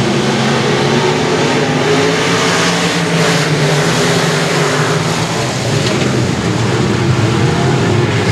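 Race cars roar around Sabine Speedway during a 20-lap feature, a loud continuous engine drone with shifting pitch as the pack passes, heard alone without talk.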